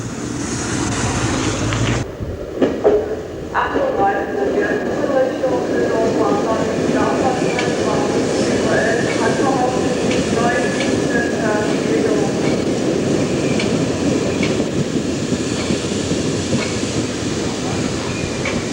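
Old Berlin S-Bahn train from around 1991–1992 approaching a station with a nearby tram terminus, a steady rolling rumble with rail clatter building and holding loud throughout after a brief sharp break near the start.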